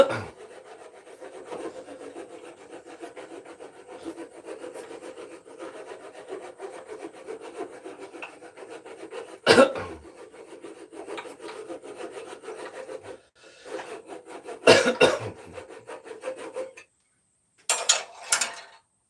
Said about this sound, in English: This is a coping saw.